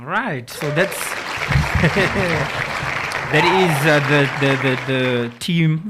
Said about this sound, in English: Can we get a round of applause for them as well?